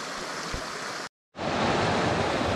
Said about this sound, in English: This leg of the hike today follows this stream upstream